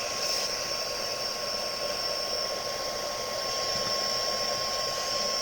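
A heat tool blows a steady, loud whooshing roar while warming a gift card, holding constant close to the microphone with no breaks.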